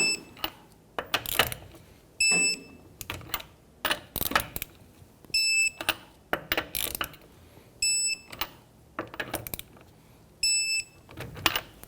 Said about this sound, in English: Let's go ahead and torque down our lug nuts to 75 foot-pounds.